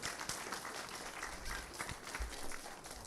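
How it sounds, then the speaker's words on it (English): A church congregation applauds during a Christmas Eve service, a dense, steady patter of many hands clapping at once that fills the room without a break. "Give her a big hand of applause."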